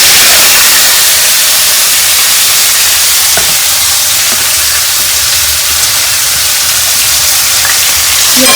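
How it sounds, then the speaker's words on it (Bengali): Chopped onions fry in hot oil after cumin tempering, a close, loud, even sizzle and crackle that runs unbroken, with faint stirring taps now and then. "পেঁয়াজটা যে কেটে রেখেছি"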